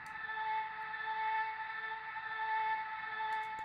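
An unfiltered vocal chop holds as a steady, bright sustained tone in a pop beat, with no rhythmic gating and a faint hiss underneath; moderately quiet, with no talking.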